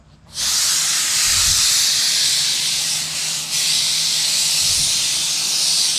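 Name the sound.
air spray gun hissing, fed by a compressor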